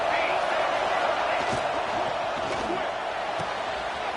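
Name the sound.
football stadium crowd cheering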